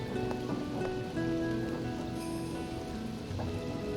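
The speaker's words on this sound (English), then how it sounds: "It's starting to rain." Steady rain falls at night, a dense continuous patter that holds even and close for the whole stretch, with faint tonal background music running underneath.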